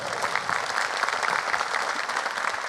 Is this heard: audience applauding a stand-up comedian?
yes